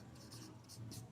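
Pen writing names on a board: a few soft, scratchy strokes in quick succession, close and faint, brief.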